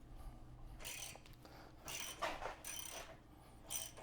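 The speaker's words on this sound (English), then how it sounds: "So now we're disconnecting the sway bar end link on the driver's side." A hand wrench works loose the sway bar end link on a Jeep JKU, with several short metallic ratcheting rasps in uneven bursts, close and fairly quiet.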